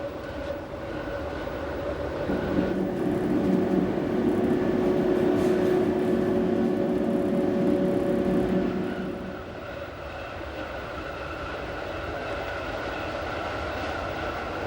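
The Glacier Express train rumbles along the Albula line near Bergün, with a steady rolling roar and rail hum that swells for several seconds and then eases to a lower, even running noise.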